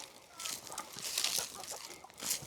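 Black Copper Marans chickens cluck softly in a faint, continuous murmur of low calls, with no clear talking.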